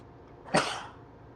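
A single sharp sneeze bursts out close by, brief and breathy, then fades into quiet room tone.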